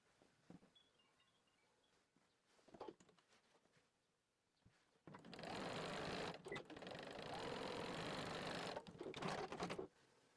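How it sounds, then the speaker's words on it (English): Sewing machine stitching heart placemat pieces with a 1/4 inch seam: quiet handling and shuffling of fabric first, then a loud, rapid continuous stitching whir for about five seconds, close by, ending abruptly. "then sew using 1/4 inch seam allowance"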